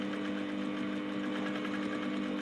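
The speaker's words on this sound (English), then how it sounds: "after stitching it down, if you stitch it to one side, you can decide to do a double stitch for it, or you can do one" A sewing machine stitches a corset seam with bra cups, running a steady, close, continuous mechanical hum with a fine rapid rattle throughout, no voices.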